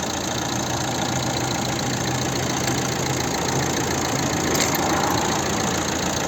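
A steady, low, rumbling 1.7-litre diesel engine of a 2011 Opel Zafira idling nearby, continuous and even with a faint mechanical clatter and no voices.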